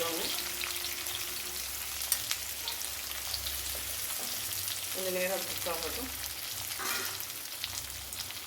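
Stuffed ladies finger (okra) stir-frying in an open pan gives a steady, close sizzle throughout, with brief scraping stirs and spattering pops rising over the hiss.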